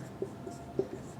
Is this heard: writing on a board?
yes